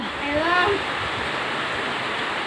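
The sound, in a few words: heavy rain shower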